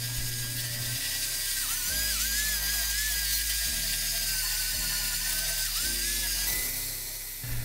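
A power sander works wood, whining steadily at high pitch, its tone dipping briefly now and then as pressure changes, loud and close.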